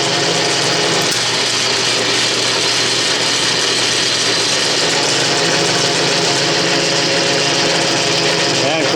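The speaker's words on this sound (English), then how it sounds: "So longitudinal feed works." South Bend lathe running under longitudinal power feed, a loud, steady mechanical whir and hum with a broadband grinding tone that holds continuously throughout, sounding somewhat labored even at a light feed.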